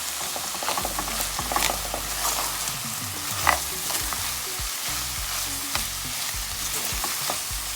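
Salted fish, potatoes, hot pepper and onions are stirred in a hot pan, with a steady sizzle of frying under repeated scraping and stirring strokes close by, and nobody talks.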